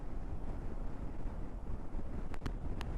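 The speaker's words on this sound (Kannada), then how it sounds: "ಬಟ್ ಗಾಳಿ ಸಿಕ್ಕಾಪಟ್ಟೆ ಗಾಳಿ ಅದ, ಆಷಾಢ ಗಾಳಿ ಅದ" Strong gusty wind buffets the microphone on a motorcycle ride through the Zanskar Valley in Ladakh, a steady loud rumbling roar with a few brief sharp clicks near the end and no talk.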